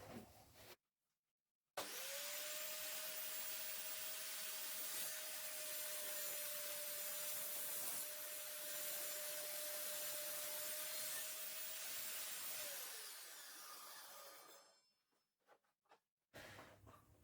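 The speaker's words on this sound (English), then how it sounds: "whenever you're using a table saw to make a cut, take your time with it" A table saw cutting wood starts abruptly after a brief silence, holding a loud, steady motor whine with a rough cutting hiss for about eleven seconds before winding down and falling quiet.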